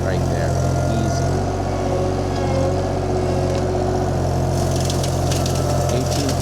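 A VMENG 25HP mulcher mounted on a tractor runs with a loud steady mechanical drone and engine hum throughout, with someone speaking over it.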